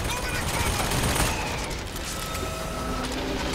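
Rapid weapon fire in Bioshock Infinite, a dense clattering fusillade of gunshots and rocket blasts sustained loud throughout, with a brief louder burst early on.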